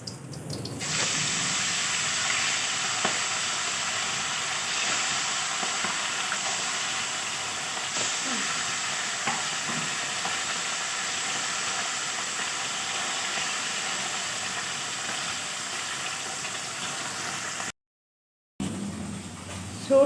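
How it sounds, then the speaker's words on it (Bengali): Small fish fry one by one in a hot pan with a loud, steady sizzling hiss that runs almost unbroken and cuts out briefly near the end. "গরম হয়ে গিয়েছে, আমি মাছগুলোকে ভেজে নেবো একে একে।"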